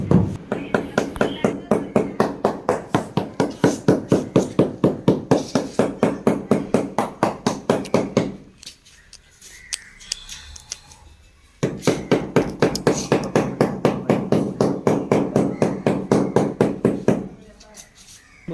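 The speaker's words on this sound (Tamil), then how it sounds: "லப்பர் சுத்தியல் வாங்கி வச்சுக்கிறோன்னா அதை வச்சு தான் தட்டிக்கிட்டு இருக்கோம்" Rapid, steady tapping of a rubber mallet on floor tiles repeats in two long runs, separated by a quieter pause with a few scattered knocks.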